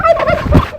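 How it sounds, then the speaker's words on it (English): A turkey gobbles loudly and close by, a quick rattling burst of warbling calls lasting under a second. "Ducks and turkeys."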